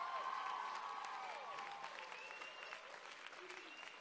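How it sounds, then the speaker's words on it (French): A crowd applauds steadily at a regional high school talent show final in Mauricie, the clapping dense and sustained before easing slightly, with faint voices underneath. "J'aimerais aussi qu'on donne une bonne main d'applaudissement"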